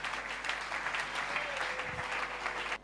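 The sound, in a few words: congregation applauding in church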